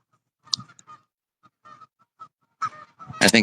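Scattered goose honks sound at irregular intervals, growing into a louder, denser burst of calls at the end.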